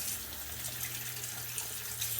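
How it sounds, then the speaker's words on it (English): Cold water runs steadily from a tap, rinsing purple ice-dyed macrame cord in a faint, even splashing wash with no voices. "We're going to rinse it out."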